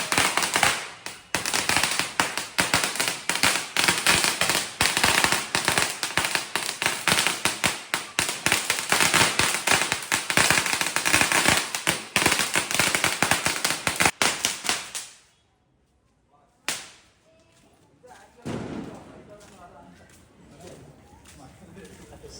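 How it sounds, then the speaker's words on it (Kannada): A long, dense string of Diwali firecrackers bursting in rapid crackling succession, loud and close, then stopping abruptly, followed by a few scattered bangs and quieter background. "ಪಟಾಕಿ ಇಟ್ಟಿದ್ದಲ್ಲ ಅದೇ ಡಮ್ ಡಮ್ ಬಂದಿದ್ದು"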